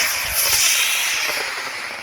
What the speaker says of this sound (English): Okay, the white nose cone rocket.